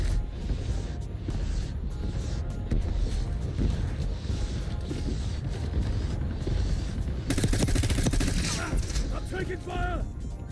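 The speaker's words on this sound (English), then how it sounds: "I'm taking fire." Sustained gunfire in the Black Ops 6 Warzone video game, dense and continuous with a louder burst of shots near the end, mixed with wind and ambient battle noise.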